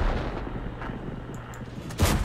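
Shell fire from the HWK 12 tank gun in World of Tanks, a single heavy boom near the end following a stretch of rumbling engine and battle ambience.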